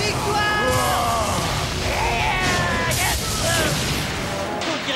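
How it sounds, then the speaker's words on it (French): A fire explosion attack in the Blue Dragon video game: layered booms and crackling blasts with whooshing tones, loud and dense, with voices and game music mixed in. "Explosion de feu!"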